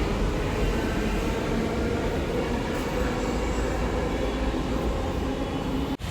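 A metro train pulls away from a station platform, its steady, loud rolling rumble and hiss filling the whole stretch without pause, with no talking over it.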